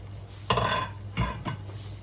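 A metal pasta pot clanks and scrapes a few times, with a couple of knocks and rattles close by in a quiet kitchen.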